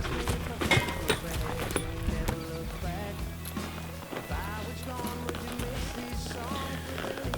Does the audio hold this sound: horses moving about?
yes